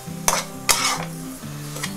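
A spoon stirs and scrapes an egg mixture, which may include peanuts and raisins, as it fries in a pan for egg fingers, giving three sharp scraping strokes over a continuous low sizzle, close and clear with no talking.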